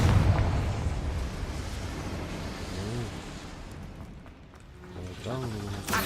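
A Confringo fire spell explodes in Hogwarts Legacy, a deep rumbling blast with crackling bursts that fades and then swells again, heard under someone speaking.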